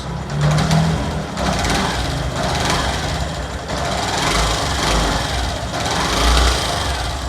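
A small motorcycle engine running steadily after an ignition coil and CDI connection check, with a close mechanical clatter, a regular pulsing beat, and a few low revs rising and settling, no voices.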